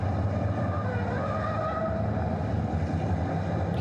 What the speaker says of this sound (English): You can hear tyres squealing and all sorts.